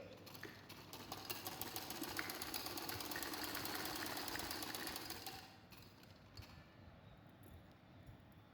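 Sewing machine running steadily while stitching sleeve seams on a side-plate baby frock, a fast even whir lasting about five seconds before it stops, leaving faint handling noises.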